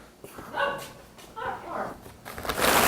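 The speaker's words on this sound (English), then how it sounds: "Oh, puppy." A puppy barks and yips a few times in a malting room, the short bright calls standing out over room noise before a rising hiss of grain or machinery at the end.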